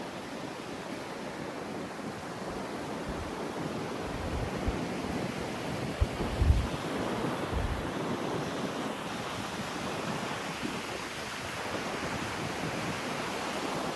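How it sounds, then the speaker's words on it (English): Surf rolls onto an empty sandy beach in Ireland, a soft continuous wash of waves at a distance with light wind noise across the microphone and a few brief bumps. "Another beautiful sandy beach with no one on."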